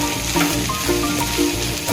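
Vegetable stuffing with a sprinkle of fresh coriander being stirred in a hot pan on a gas flame, a steady close frying hiss with soft repeated scraping strokes throughout.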